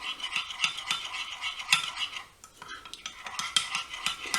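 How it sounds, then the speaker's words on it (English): A spoon stirs a wild orange chocolate mixture in a bowl, giving scraping clinks and soft rattles in uneven strokes, close and fairly quiet with no voice. "And another good stir in."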